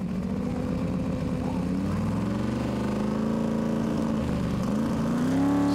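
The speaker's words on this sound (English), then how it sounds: "This is a turbocharged V8 on here" A turbocharged V8 tractor-pulling engine roars steadily and loud at a tractor pulling competition, its pitch climbing and rumbling continuously under heavy load with no pauses.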